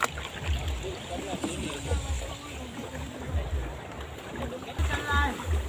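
A rowboat glides through water on a village outing, with a steady wash of water and wind noise and faint splashes throughout, while voices murmur in the background.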